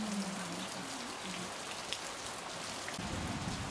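Heavy rain pours in the mountains of Bhutan, a dense, loud and unbroken roar of drops on surfaces that holds steady throughout with no speech.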